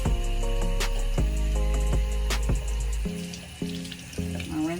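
Tap water runs steadily into a sink while a dog insemination device is rinsed under it, a close, continuous splashing stream with a few light clinks and knocks mixed in.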